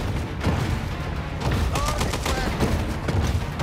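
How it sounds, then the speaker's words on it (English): Rapid bursts of machine gun fire in the shark video game Maneater, fast cracking volleys repeating under a busy game soundscape while a person talks over it. "I think I got machine guns and everything against them."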